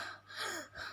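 A voice imitates the labored breathing of an asthma attack with a strained, wheezy gasp, quiet and breathy, in two short swells.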